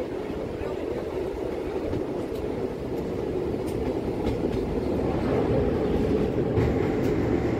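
The Hazarduari Express passenger train running on rails between Kolkata and Lalgola, a steady close rumble of wheels and carriage noise that grows slightly louder toward the end, with a few faint clicks.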